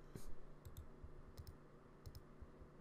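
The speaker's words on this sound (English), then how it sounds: "I'm going to right click and zoom out." Faint mouse clicks from right-clicking on a computer while working in Inkscape, a few soft, quick clicks, some in close pairs, spread across a quiet room background.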